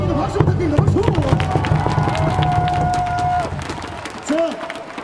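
Crowd at a baseball stadium, LG Twins home game at Jamsil, applauding the players after a win: dense, loud cheering and clapping with an announcer's voice over the hubbub.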